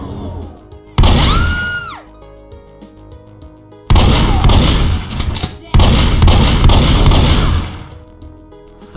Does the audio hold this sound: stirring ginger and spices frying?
no